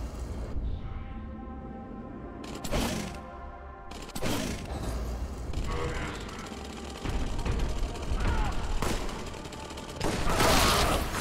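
Rapid gunfire from the video game Warhammer 40,000: Boltgun, dense bursts of shots and loud blasts layered over game music and effects, with intensity swelling in waves across the stretch.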